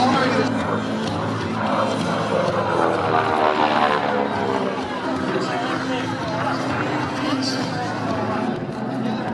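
A propeller airplane performing an aerobatic roll at the Chilliwack airshow drones overhead, its engine note swelling and fading, while a commentator talks over a public address system.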